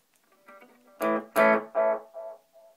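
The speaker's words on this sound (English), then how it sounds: "put on an effect like tape echo." A guitar played through a Line 6 Spider IV amplifier with its tape echo effect sounds several notes, each followed by decaying repeats that trail off quietly.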